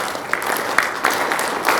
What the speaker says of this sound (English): today we are going to clap in a different manner